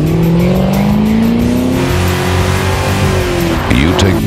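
A race car with a MagnaFlow performance exhaust roars loudly, engine pitch rising then holding, with a brief screech near the end.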